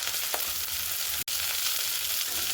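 Potatoes with salt and turmeric stir-fried in a hot pan give off a steady, dense sizzle with a single sharp clack partway through, close and continuous.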